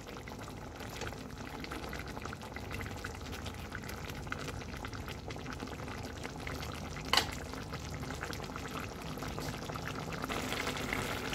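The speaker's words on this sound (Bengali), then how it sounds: "আর একটু ফুটতে দেবো, টকটা একটু মরে যাবে আর একটু কমবে।" Sour morola fish curry with tomato and onion simmers in a pan, giving off a soft, steady bubbling and sizzling that runs unbroken at low volume, with one brief clink partway through.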